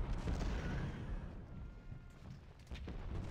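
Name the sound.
artillery fire in Ultimate General: Civil War video game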